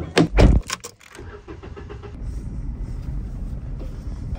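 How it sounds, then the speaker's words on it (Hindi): People get into a car: a few loud thumps and clatters from doors and seats at the start, then a quiet, steady interior rumble. "हम लोग गाड़ी में आ गए"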